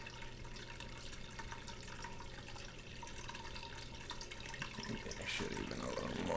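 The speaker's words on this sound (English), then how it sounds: "I'm trying to slow down the water a little bit." Water runs steadily while paydirt is panned for gold, a quiet constant trickle and splash that grows a bit louder and choppier near the end.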